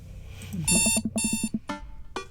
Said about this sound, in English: I jolt awake to the sound of my alarm.